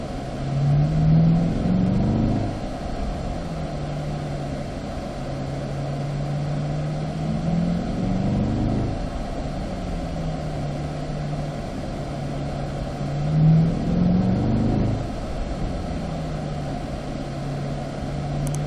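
A C8 Corvette on a driving school track pulls hard through its gears, the engine note rising and dropping in repeated sweeping pulls, steady and fairly close.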